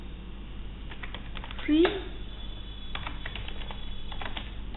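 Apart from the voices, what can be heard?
typing on a computer keyboard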